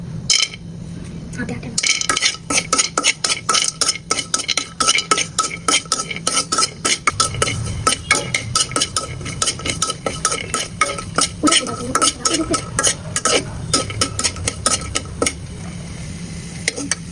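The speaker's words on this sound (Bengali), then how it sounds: "আমরা তেলে হালকা করে ভেজে নেব" Pistachios frying lightly in oil for a viral kunafa chocolate, stirred with a utensil that scrapes and clinks against the pan in a steady, busy rhythm over a soft sizzle, close and fairly loud.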